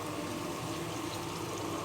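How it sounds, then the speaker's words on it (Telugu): Water pours steadily into a freshly washed cooking pot in a home kitchen, a continuous close splashing fill with no talking. "గిన్నె కడిగి నీళ్ళు వేస్తున్నాను."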